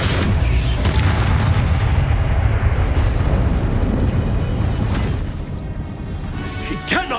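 Confringo fire-spell blasts in the video game Hogwarts Legacy roar as a loud, sustained explosive rumble during a battle, easing off toward the end, with a brief voice and spell flourish near the close.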